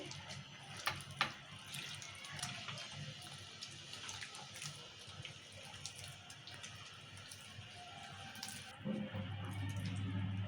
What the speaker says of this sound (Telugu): నీళ్ళు కూడా కలిపేటప్పుడు మనం చూసుకుంటూ పోసుకోవాలి